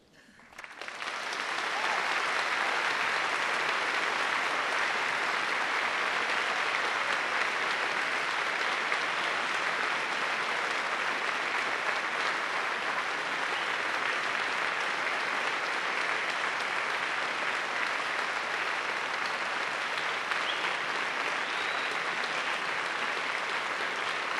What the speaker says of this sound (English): giving them all an enthusiastic round of applause